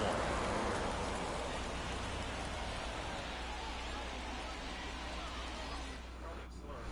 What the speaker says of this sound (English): The rain is here, and it doesn't look like it's going away anytime soon.